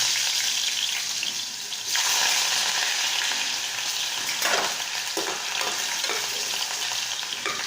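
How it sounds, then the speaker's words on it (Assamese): Potatoes fry in hot mustard oil for a fish curry, a steady close sizzle and crackle that rises in strength after about two seconds and keeps going with occasional louder bursts. "গৰম হোৱাৰ পাছত আলুকেইডোখৰ ফ্ৰাই কৰি ল'ব"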